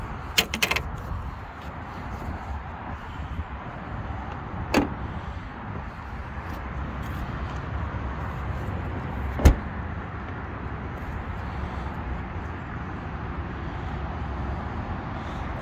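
A Colt CZT car bonnet is shut with a sharp, loud thud that stands out over a steady outdoor background. A couple of softer knocks come earlier. No one speaks.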